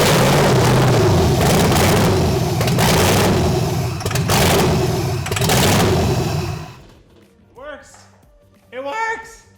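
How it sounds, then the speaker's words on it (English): An LS-swapped Mazda Miata engine cranks on starter fluid, catching into a loud, rough, continuous roar for several seconds before cutting out, followed by quiet with short bursts of people talking. "So now we're going to try to start it with starter fluid."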